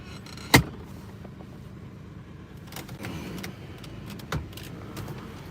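Inside a truck while driving, a low rumbling cabin drone runs throughout, with a sharp clunk early on and a few faint clicks and rattles later.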